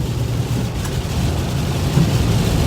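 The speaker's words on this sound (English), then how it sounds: "It's pouring rain." Heavy rain pours down in a steady, dense hiss and rumble, continuous and fairly loud throughout with no voices.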